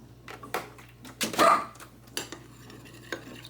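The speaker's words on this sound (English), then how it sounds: "Sorry, my dog's barking here." A dog barks a few times in a home kitchen during cooking, the loudest bark near the middle, with faint clinks of dishes and utensils and a steady low hum underneath.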